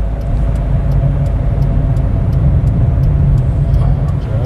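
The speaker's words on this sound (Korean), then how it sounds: "자 기어 넣고 출발 엑셀 살짝 밟고" A learner driver's car pulls away on a Korean road-test course, a steady, loud low engine rumble building under faint background noise.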